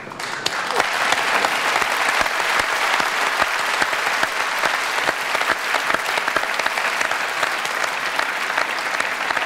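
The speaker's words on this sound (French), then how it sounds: "Je ne crois pas que ça mérite des applaudissements." A studio audience on a French television talk show breaks into sustained, dense applause. Sharp claps cut through a steady roar that stays loud and close for the full stretch, with no voices over it.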